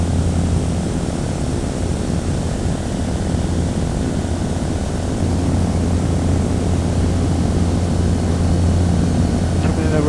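A small propeller aircraft low on fuel comes in to land over Mora, its engine a loud, steady, close droning roar that holds evenly throughout.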